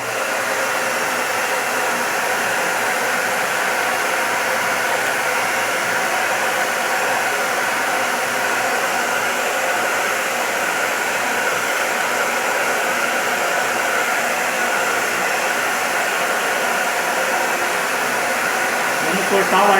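TAIFF Fox Ion hair dryer blowing at its maximum hot setting, a loud, steady whooshing roar of fan and airflow that holds unbroken for the whole stretch, close up.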